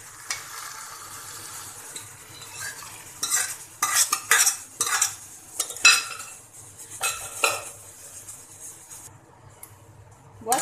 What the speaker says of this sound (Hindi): बस दाल को अच्छे से मिक्स कर लें।